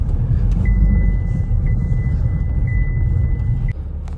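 A 2014 Opel Insignia 2.0 diesel drives slowly, its engine giving a steady low rumble from inside the cabin while a thin continuous electronic tone sounds alongside, ending with a brief thump near the end.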